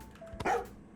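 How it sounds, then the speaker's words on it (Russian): A dog barks once in Streamer Life Simulator 2, a short, close game sound over a quiet background. "Собака."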